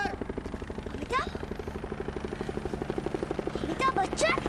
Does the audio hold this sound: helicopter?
yes